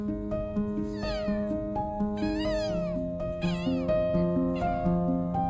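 A cat, sulking after being disturbed while asleep, lets out several drawn-out, wavering meows in a row, close and fairly loud over steady tonal sound.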